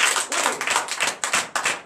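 A church congregation at morning prayer claps in acclamation, with a short burst of close, rhythmic clapping in quick repeated waves.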